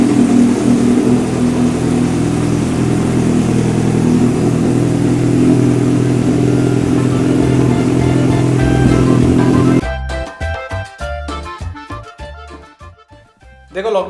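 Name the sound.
motorcycle engine revving while riding, shifting to second gear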